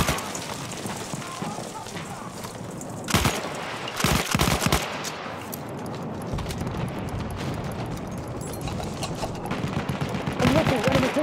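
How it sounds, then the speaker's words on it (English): Artillery and gunfire in a Battlefield 1 conquest round on PS4, with dense rattling gunshots, bursts of heavy blasts and a constant rumbling battlefield din, loud and close. "Artillery battle, be careful."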